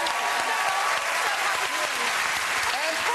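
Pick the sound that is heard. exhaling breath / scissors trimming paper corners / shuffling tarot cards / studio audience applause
studio audience applause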